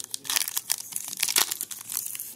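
A foil trading card pack, a 2020-21 Panini Mosaic basketball pack, torn open and peeled back with close, crisp crinkling and rustling in quick bursts.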